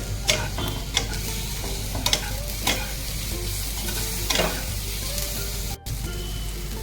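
Tomatoes are sautéed and stirred in a pan for an egg curry, giving a continuous sizzle with repeated spoon scrapes and clinks at an uneven rhythm, close by and without talk.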